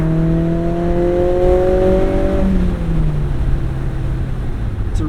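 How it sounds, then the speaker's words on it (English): Mazda Miata engine and exhaust revving while driving, a loud, close drone whose pitch climbs steadily then drops as the revs fall, leaving a steady lower engine hum and road roar. "I also love the way that this car sounds."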